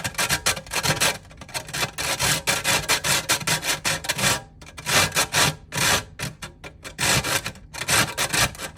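A piece of baked gingerbread is rubbed back and forth across a grater to smooth its sides, making a close, steady rasping scrape in repeated strokes with short pauses between them.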